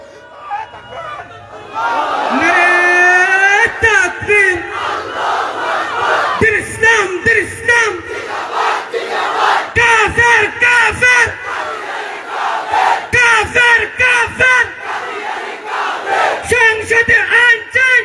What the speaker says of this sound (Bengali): তাকবীরের স্লোগানে পুরো আকাশ পাতাল প্রকম্পিত হবে এমন একটা তাকবীর দেন